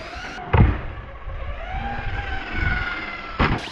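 A Traxxas Hoss 4x4 VXL RC truck's electric motor whines up with rising and falling pitch, with a sharp thump at the start and another near the end, heard close and alone.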